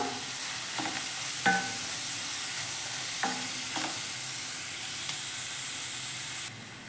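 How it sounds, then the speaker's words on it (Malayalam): Onions with garlic and black pepper sauté in a pan for an ulli roast, a steady close sizzle with a few louder stirring scrapes and bursts of crackle, no voices. "ഇനി ഇത് നമുക്ക് നന്നായി ഒന്ന് വഴറ്റിയെടുക്കാം."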